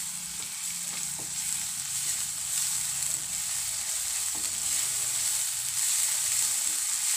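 Ginger-garlic paste fries with mutton in a pan for a Hyderabadi mutton and cabbage curry, producing a dense, even, close-up sizzle with a few faint stirring knocks and no talking.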